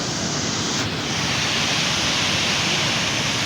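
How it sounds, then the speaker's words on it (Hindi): Floodwater rushes through Nala Bhimber, a stream near Bhimber in Mirpur Division, during rain, making a steady, loud, broadband roar with no breaks from start to finish. "ये आप पानी का बहाव देखें।"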